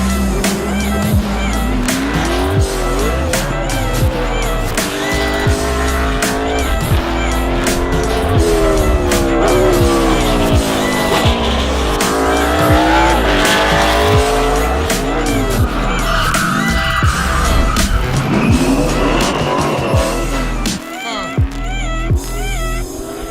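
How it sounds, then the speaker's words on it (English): A NASCAR stock car driven hard around a race circuit, its loud engine revving and shifting continuously up close while the tires squeal and slide through corners for the whole stretch. "swapping cars with Jimmie Johnson, and me driving the NASCAR for the first time."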